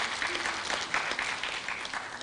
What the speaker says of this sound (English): Can we clap for our fallen mothers?